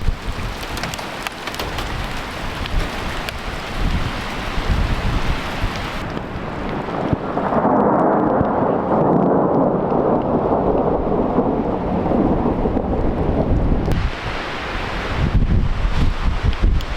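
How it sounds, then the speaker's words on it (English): Thunder rolls through a storm at a North Island campsite, a long deep rumble that swells and fades under steady rain and wind noise, heard from inside a 4WD with no voices. "Yeah, thunder's a while away."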